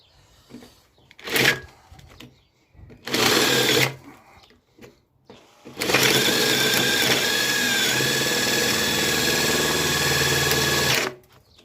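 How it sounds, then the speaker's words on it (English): A power drill drilling out a Lexmoto motorcycle ignition lock whirs in two short bursts, then runs steadily for several seconds with a grinding, high-pitched whine before stopping. "I'm going to try drilling it"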